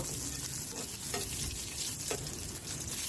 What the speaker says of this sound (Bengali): এখন চুলা একটা কড়াই বসিয়ে দিয়েছি এর মধ্যে পরিমাণ মতো তেল দিয়ে দিব দুই টুকরা তেজপাতা দিব কয়েকটা রসুনের কোয়া দিব এখন ভালো করে নেড়ে নিব